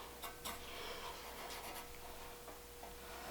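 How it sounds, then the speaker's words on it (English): A pencil or scribe tracing a nut's outline onto thin steel sheet gives faint, close scratchy rubbing strokes in short irregular passes, quiet and alone without talk. "I'm going to just trace out the size of this nut onto here"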